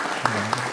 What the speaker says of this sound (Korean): 뜨겁게 박수로